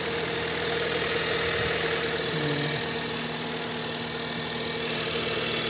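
A Honda Mobilio engine idles after throttle body and EGR cleaning and new spark plugs, a close, smooth, even hum with a steady low drone and no revving, running alone without talk.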